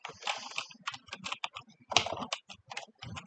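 Rapid clicking keystrokes on a computer keyboard while coding in Node.js, uneven bursts of close, crisp taps with brief pauses, no voices.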